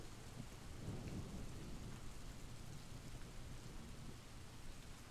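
Steady rain ambience with a low rumble of thunder, a continuous hiss of rainfall on surfaces played quietly in the background.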